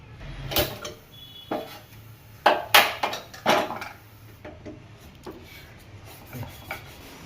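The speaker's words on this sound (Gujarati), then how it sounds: "આવી રીતે તવીથાથી સતત હલાવતું રહેવાનું" A spatula scrapes and rubs through milk, milk powder and semolina in a pan over low heat, making irregular scratchy strokes and a few sharper knocks against the metal, fairly close, with no talking.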